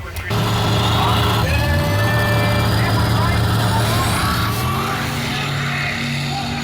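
Frankenmule drag car on nitrous launching on 315 radial tyres at the Kenda Radial Riot 2019, lifting its front wheels: a loud, sustained engine roar that holds steady for several seconds with deep low rumble and a slight pitch rise.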